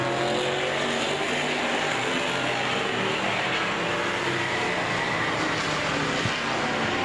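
Race cars lapping a short oval at Veterans Raceway Park in Wisconsin, warming their Hoosier tires before a dash, a steady loud roar of several engines running continuously without breaks.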